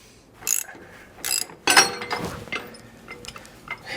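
A breaker bar ratchets against a Jeep ball joint, giving a few sharp, close metallic clicks and pawl rattles spaced unevenly across the moment.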